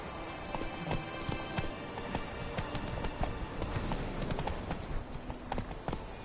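Horse hooves clip-clopping at a steady trot in The Witcher 3, rapid rhythmic clops mixed with ambient game sound and a faint whinny, continuous and moderately loud throughout.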